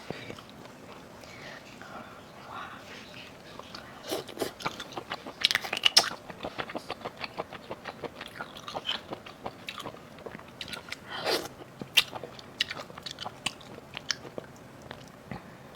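Small abalone being eaten at a seafood mukbang, with soft chewing and several sharper bites and crunches clustered midway, close to the mic and fairly quiet, with no talking.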